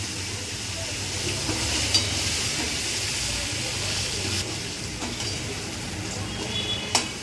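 Raw potatoes fry in spiced masala oil left in the pan after frying eggplant, giving a steady, fairly soft sizzling hiss with a few brief clicks and knocks nearby.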